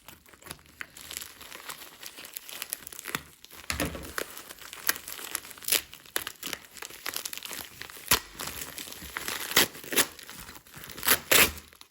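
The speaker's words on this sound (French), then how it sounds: "je coupe le scotch de ce côté-là aussi" Crackly crinkling and tearing of tape on a bubble-wrap package, with sharp rips and rustles coming in irregular bursts, close up.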